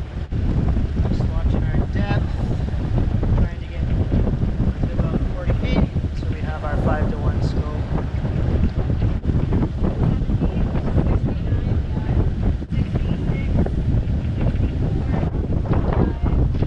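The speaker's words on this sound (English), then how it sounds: "We're just doing our U-turn to anchor into the wind." A boat motoring through strong wind as it makes a U-turn to anchor in Henry Bay, its engine rumbling low and steady under loud, continuous wind buffeting on the microphone, with a voice speaking intermittently.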